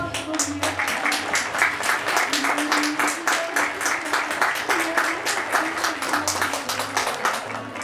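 Sustained crowd applause at a Chilean criollo rodeo in Futrono, dense rapid clapping from many spectators filling the whole stretch, with a voice on the public address heard over it.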